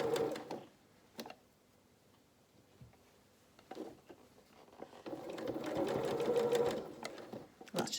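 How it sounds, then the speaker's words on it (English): Domestic sewing machine stitching an angled seam across the top of children's dungarees, running in a short burst, pausing, then a longer steady whirring run with a change of speed, close up and alone. "I'm just sewing across the top of these now just to change my speed."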